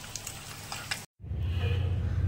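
Egg curry frying in a pan, with a steady close sizzle and stirring that briefly drops out before returning louder and denser.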